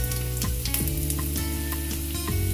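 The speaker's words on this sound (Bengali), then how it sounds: "রসুনটা ব্রাউন হয়ে গেলে কাঁচা লঙ্কা কুচি দিয়ে দিচ্ছি।" Chopped green chillies sizzle in a pan with browned chopped garlic, a steady close crackle with scattered sharp pops and stirring scrapes, no voices.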